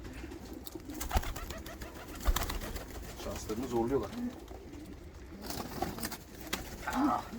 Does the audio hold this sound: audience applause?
no